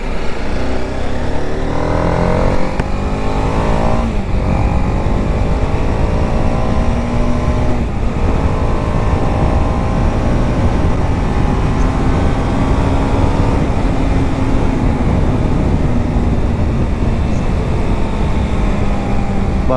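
A BMW G310RR motorcycle engine hums steadily with rising and falling pitch as it rides along a road at night, wind rushing past, loud and continuous throughout.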